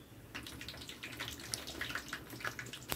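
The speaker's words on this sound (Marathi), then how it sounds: "चला तर राईस पाण्यामध्ये टाकून देऊया।" Rice for chicken biryani is poured into a bowl of water to soak, giving faint, close splashing and trickling sounds with a few soft patters, and no one speaks.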